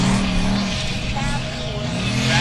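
A Formula Offroad race car at Hella, Iceland, climbing a hill, its engine roaring hard and steady with a high, strained whine, loud and sustained while a commentator talks over it.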